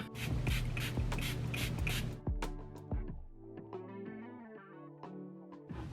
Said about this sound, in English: we're going to go ahead and spray the inside of the wig and then the edge of the wig